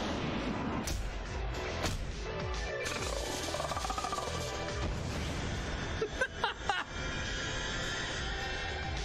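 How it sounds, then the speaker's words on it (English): Grenade explosions and chaotic combat in Yakuza: Dead Souls, dense booming blasts and crashes layered with roaring noise, loud and continuous with sharp impacts near the end. "This is how grenades work, by the way"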